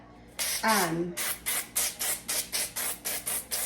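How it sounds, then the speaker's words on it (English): Quick bursts of avocado oil cooking spray hiss nearly a dozen times in a steady rhythm onto a circle of parchment paper, close by, with a brief crinkle of paper near the start. "spray it with some avocado spray"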